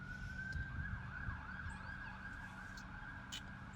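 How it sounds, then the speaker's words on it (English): A wailing siren rises and falls steadily at a distance over low traffic rumble, with no voices. "let's let the sirens pass"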